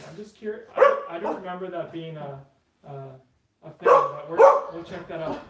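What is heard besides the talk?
dog barking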